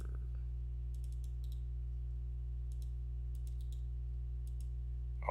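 Keys clatter on a computer keyboard in short bursts of typing and clicks, faint over a steady low electrical hum.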